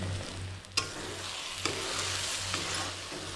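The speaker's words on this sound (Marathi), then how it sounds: "आणि मसाला चरचरायला लागला आहे" Masala spice paste sizzles loudly in hot oil in a pan while crab curry cooks. A steady, close frying hiss is broken by a few soft stirring knocks.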